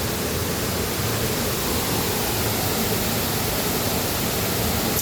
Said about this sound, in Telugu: మీకోసం వాటర్ ఫాల్ తెచ్చాను